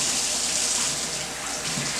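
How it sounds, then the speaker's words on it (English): Tap water runs steadily into a sink as hands are washed while baking a boxed rainbow cake mix, a constant close hiss with no voices. "we're going to keep washing our hands"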